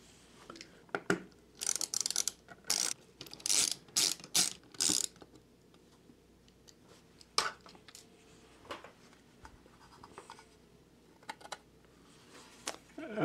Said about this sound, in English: there's 4 screws, so we'll take those out next